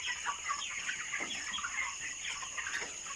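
Young broiler chickens, 28 days old, cluck softly and continuously in a farm house, a steady low murmur of many birds with scattered brief calls and no talk.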